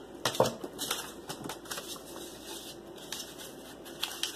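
Scissors snip through folded book pages for a paper wreath craft, giving a few sharp close cuts and crisp paper rustles in quick succession.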